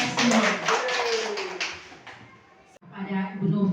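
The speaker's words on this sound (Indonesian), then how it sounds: "Tepuk tangan sekali lagi untuk kita semua." Clapping hands from a school gathering at SDI Puho, a dense patter of applause filling the first seconds before a brief pause, then resuming with voices mixed in.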